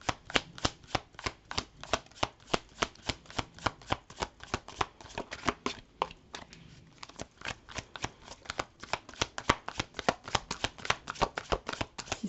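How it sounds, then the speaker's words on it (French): Tarot cards are shuffled and drawn close up: a steady run of crisp, rapid flicks and snaps with a short pause midway, and no talking. "Je vais tirer toutes les cartes et puis après je vais revenir sur celle-ci."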